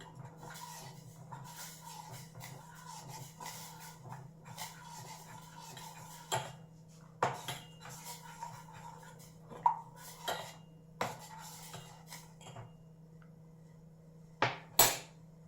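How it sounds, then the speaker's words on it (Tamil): A spoon scrapes and clinks against a pot while milk is stirred for a health drink, soft repeated stirring with occasional sharper metallic knocks, close and fairly quiet. "கொஞ்சம் நல்லா ஸ்டிர் பண்ணிகிட்டே இருங்க. ஸோ தட் கீழே வந்து அடி பிடிக்காமல் இருக்கும்."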